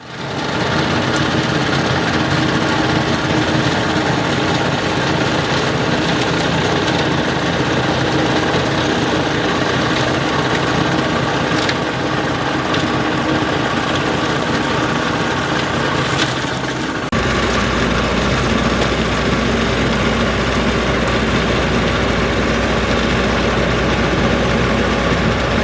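A tractor running a brush-cutter arm to clear grassy banks drones steadily and loudly throughout, with the engine and cutting tone shifting abruptly partway through, no voices.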